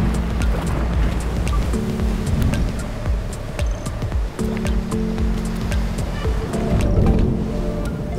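Whitewater rapids of the Rio Caqueta rush through a narrow canyon between vertical rock walls, a loud, steady roar of churning water with no voices.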